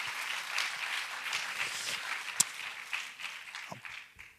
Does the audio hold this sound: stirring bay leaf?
no